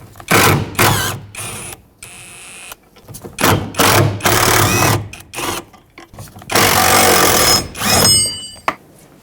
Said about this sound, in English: using a T40 socket, remove the 3 bolts holding this in place